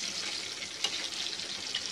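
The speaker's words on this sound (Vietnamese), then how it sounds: "mình sẽ chiên từ từ như vậy thôi" Frog pieces fry in a pan over low heat, giving a steady close hiss and crackle of sizzling oil with a small pop partway through and no voices.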